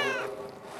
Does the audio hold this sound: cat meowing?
yes